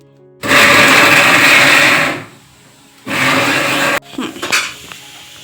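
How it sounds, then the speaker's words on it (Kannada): A mixer grinder whirs loudly as it blends chilli powder, spices, ginger and garlic, running in two bursts of about one and a half seconds and one second, followed by brief clattering of the jar. "ಇವಾಗ ಇದನ್ನು ಮಿಕ್ಸಿಗೆ ಹಾಕ್ಕೋಬೇಕು"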